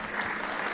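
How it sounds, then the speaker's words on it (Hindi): A short, dense burst of clapping from an audience at a school event honouring children. "जोर से ताली देंगे।"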